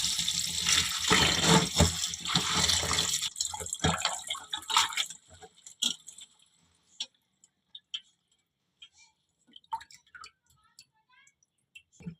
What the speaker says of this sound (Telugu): చక్కగా 2-3 నీళ్ళలో కడిగేసేయండి.